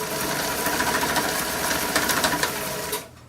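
A Janome New Home sewing machine stitches forward and back, giving a loud, close, steady mechanical whirring and rapid needle chatter that runs continuously before stopping abruptly at the end.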